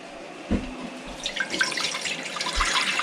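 Violet jelly liquid mixed with lemon juice is poured into a pot, giving a close, splashing gurgle that starts with a thud and runs on with bubbly trickling for a few seconds.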